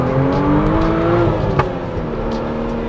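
A Morgan Plus Six 3.0 roadster pulls under load on an open road, its engine holding a steady, loud drone with a faint rise in pitch and a brief click midway, with no talking.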